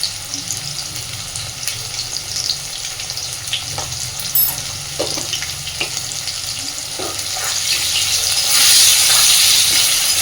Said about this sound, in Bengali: খুব সুন্দর করে এবার আলুটা ভেজে নেব।